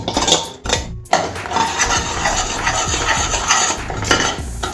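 Ground coconut mixture is stirred into sugar syrup in a metal pan, giving close, continuous scraping and rubbing with clinks of the spoon against the pan and a brief pause near the start.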